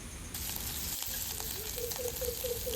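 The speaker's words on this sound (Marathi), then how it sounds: "छान परतून घेऊया." Mustard seeds, cumin, curry leaves and green chillies crackle and hiss in hot oil for a tempering without onion, a steady close sizzle with a faint squeaky tone toward the end.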